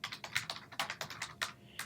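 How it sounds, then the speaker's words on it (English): Rapid typing on a computer keyboard as an axis title is entered in a spreadsheet: a quick, uneven run of close, crisp key clicks with no talking. "we'll just go here and type in what our axis is and the units"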